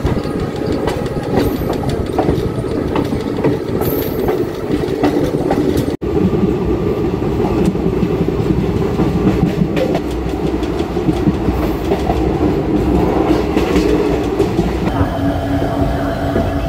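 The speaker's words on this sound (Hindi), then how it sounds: "हमारी ट्रेन गिदड़बाहा से चल चुकी है।" Shri Ganganagar–Rishikesh Express passenger train running on rails, a steady loud rumble with rhythmic clickety-clack of wheels over rail joints, heard from inside the moving coach throughout.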